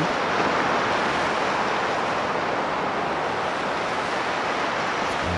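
Steady wash of ocean waves with wind from the Bora Bora virtual environment on an Apple Vision Pro headset, a dense, continuous surf roar that stays loud and even throughout with no voices.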